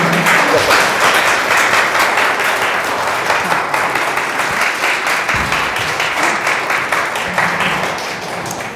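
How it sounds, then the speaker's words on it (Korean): A film premiere audience gives sustained, warm applause, many hands clapping in a thick continuous roar that stays loud for the whole stretch and eases only slightly at the end. "다시 한번 뜨거운 박수를 보내겠습니다"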